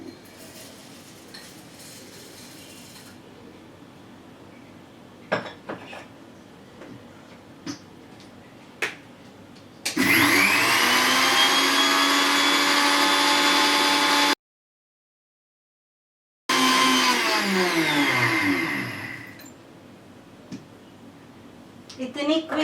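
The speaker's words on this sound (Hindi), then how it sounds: "उसके आटा के लिए मिक्सचर में उसका पाउडर बना दूंगी" A kitchen mixer grinder pulverises dry poha into flour, whirring loudly and steadily in two bursts separated by a short pause, after quieter clicks and handling sounds at the start.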